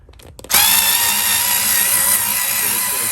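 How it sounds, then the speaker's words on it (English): Electric screwdriver whirring steadily as it backs out the mounting bolts of a toilet seat, a loud continuous motor whine starting abruptly after a few faint handling noises and running on without pause. "An even quicker way to do this is just take an electric screwdriver."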